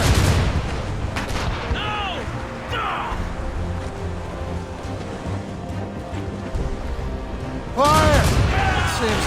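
Ship cannons fire in the video game Assassin's Creed Rogue: heavy booming volleys at the start and again near the end, with a continuous rumbling sea-battle backdrop and some voices in between.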